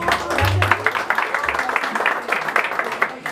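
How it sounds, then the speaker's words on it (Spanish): Applause for a youth mariachi band at a birthday party, a burst of clapping under loud talk and cheering voices that fades into scattered claps. "Bueno, y será que el mariachi se merece un aplauso"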